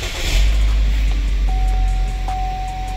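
A Chevy Equinox engine with a faulty high-pressure fuel pump turns over and then runs, a loud low rumble close by with a thin whine rising from the engine bay.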